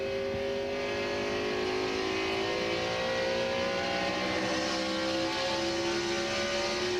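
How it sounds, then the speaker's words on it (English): A NASCAR stock car accelerates hard at the 2001 New England 300, its engine pitch climbing steadily as it pulls away on the track, loud and continuous with no voices. "that car has some acceleration."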